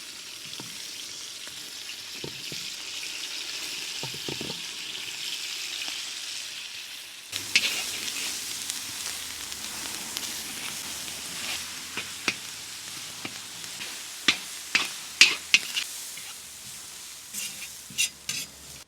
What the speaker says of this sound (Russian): И отправляем наш фарш на обжарочку.